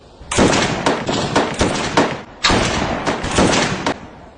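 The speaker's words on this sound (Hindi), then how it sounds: "5 राउंड ग्रुप फायरिंग।" Gunfire from a five-round group firing at a shooting range: two loud, close, sustained bursts of rapid cracking shots, separated by a short gap, with no talking.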